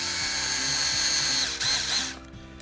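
A power drill drives screws into a Tekno SCT410.3 short course RC truck kit, whining steadily at close range in short bursts before cutting off near the end.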